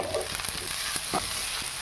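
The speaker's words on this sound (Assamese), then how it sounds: "এতিয়া মই ইয়াত দি দিওঁ কবি আৰু লগতে এই জলকীয়াকেইটা" Cabbage and green chilies fry for chow mein in a pan. A loud, continuous sizzle runs throughout, broken by a few scraping stirs.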